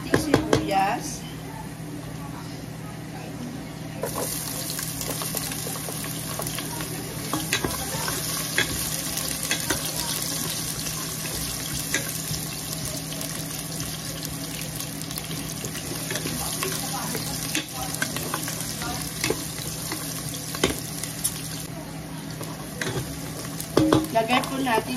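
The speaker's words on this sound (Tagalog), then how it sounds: "Antayin po natin na mag-golden brown ang ating bawang bago po natin sulot ang ating sibuyas." Garlic and onion sauté in a pan for beef pares, a steady broadband sizzle with frequent stirring scrapes running throughout, with a voice talking over it in places.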